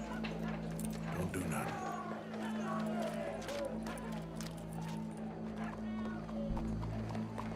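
Horse hooves clip-clop along in Red Dead Redemption 2, a steady run of soft hoofbeats with a low rumble and crowd murmur behind, moderately close and continuous.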